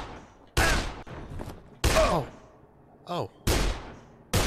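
Gunfire in the video game Dead Island comes as four sharp, loud bursts spaced about a second apart, each ringing out and decaying, with a brief spoken exclamation between them.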